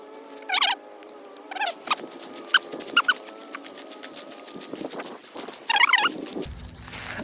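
Birds at a farm chicken coop cluck and squawk in several short, loud bursts over a quiet outdoor background, with a brief rumbling noise near the end.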